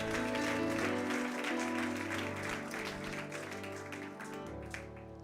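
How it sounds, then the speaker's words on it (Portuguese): A church congregation applauds during a service, their steady clapping spread across the room over sustained background music that continues beneath the applause. "Você pode aplaudir o nome do Senhor?"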